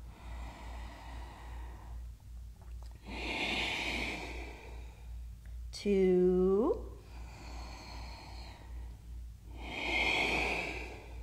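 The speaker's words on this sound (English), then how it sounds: "So in Ashtanga yoga, we do deep breathing with sound." Deep, audible breaths during an Ashtanga yoga practice, each a long, hissing breath repeating in slow cycles, close and steady, with a voice briefly counting between them.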